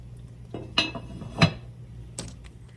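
A lid set onto a cooking pot of Bohemian beef dinner in a home kitchen: a few close metallic clanks and clinks, one louder knock in the middle, with no talking.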